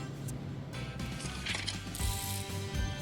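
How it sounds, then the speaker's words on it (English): A ratchet clicks steadily as it tightens the brake caliper slider bolts on a 1997 Mercedes-Benz E320, a close, continuous run of metallic pawl clicks with a few heavier strokes. "Now we'll tighten this guys, the bolts,"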